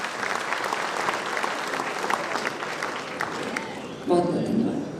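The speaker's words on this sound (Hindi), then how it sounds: "तालियां बजती रहनी चाहिए लगातार।" A large audience at a spice industry conclave applauds Chief Minister Bhajan Lal Sharma with continuous, dense clapping, and a voice comes in over the applause near the end.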